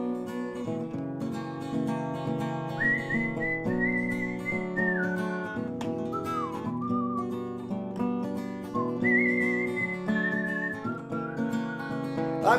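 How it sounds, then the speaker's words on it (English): A person whistles a lively melody alone for the whole stretch, clear, close and sustained, with rising and falling tones and a few brief breaks between phrases. "I'm whistling."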